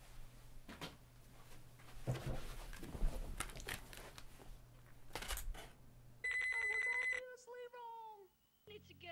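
A telephone rings in a 2004 low-budget movie, a short electronic ring bursting out clearly after a stretch of muffled clattering and background noise, followed by a few faint warbling tones.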